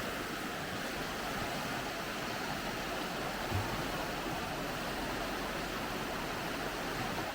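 River water flowing steadily at the Assin Manso ancestral river, a dense continuous rushing wash that stays even and fairly loud throughout with no voices.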